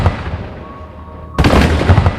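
A shock tube fires with a single sharp blast as Mylar membranes burst, the test rig scaled to match a 1.5-pound C4 charge at 50 meters; a brief quiet tone precedes the abrupt loud crack and its short rumbling tail.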